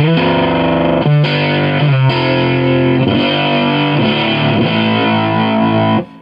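A thick, buzzing fuzz-distorted bass guitar plays sustained notes and a few changes, loud and saturated, ringing until it cuts off abruptly.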